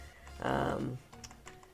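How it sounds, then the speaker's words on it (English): A few quick taps on a computer keyboard follow a brief broadband whoosh, sounding close and fairly quiet while someone fixes typing errors. "Let's just fix all my typing errors."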